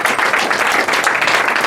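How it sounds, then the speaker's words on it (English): At an awards dinner in the House of Lords, an audience breaks into dense, loud applause, with rapid overlapping claps filling the room for a short burst. "Let's give a big hand over there in that corner."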